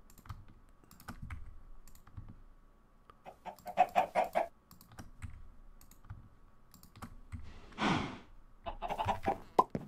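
Chickens clucking in a building and farming video game, short scattered clucks and squawks at moderate distance, mixed with bursts of keyboard typing and clicking.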